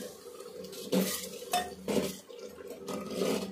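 A metal spoon scrapes and clanks around a metal pot of mushrooms and garlic in uneven strokes over a soft sizzle, close by and without talking.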